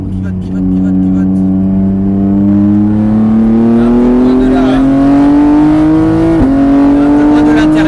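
A race car engine at Mireval circuit revs loud and close, its pitch climbing steadily through a long pull with a brief dip near the end, while a voice coaches over it.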